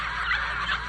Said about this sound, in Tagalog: Nahilak na tong mga piso.